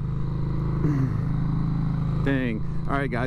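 A 2015 Harley Davidson Street 500 with a Vance Hines exhaust idling close by, a deep steady rumble running throughout while someone talks over it.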